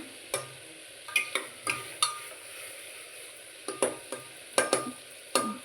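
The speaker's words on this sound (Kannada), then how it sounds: "ಟೊಮೆಟೊ ಸ್ವಲ್ಪ ಸಾಫ್ಟ್ ಆಗೋವರೆಗೂ ಈ ರೀತಿ ಫ್ರೈ ಮಾಡ್ಕೊಳ್ಳೋಣ" Tomatoes frying in a pan until soft: a sequence of separate scraping stirs from a spatula against the pan, each with a short sizzling burst, over a quiet background with no talking.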